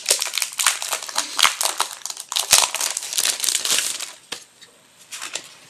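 A wrapped pack of printed washi paper sheets being opened, with close, loud bursts of plastic crinkling and crumpling that fade into quieter rustles near the end.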